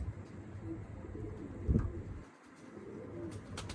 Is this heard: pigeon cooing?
yes